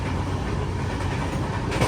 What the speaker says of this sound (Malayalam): ജബൽപൂർ റെയിൽവേ സ്റ്റേഷനിലേക്ക് ഇതാ നമ്മുടെ ട്രെയിൻ എത്തിക്കൊണ്ടിരിക്കുകയാണ്